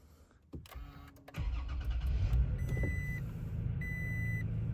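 Toyota Tacoma TRD 4x4 pickup engine starting: a brief starter crank, then the engine catches and settles into a steady idle, with a couple of chime tones from the cabin.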